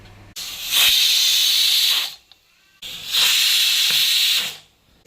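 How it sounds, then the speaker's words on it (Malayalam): A pressure cooker of liver lets off two long, loud steam whistles, each a steady hiss of about two seconds, separated by a short near-silent pause. "അപ്പോൾ ലിവർ നമ്മളെ 4 വിസിലായിട്ടുണ്ട്."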